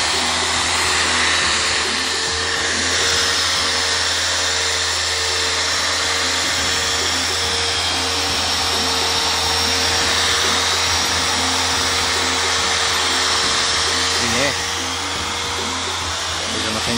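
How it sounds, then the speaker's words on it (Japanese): A machine polisher buffs a motorcycle's surface with a loud, continuous motor whine and a steady rushing hiss that hold evenly throughout at close range. "これを全面磨いていきます。"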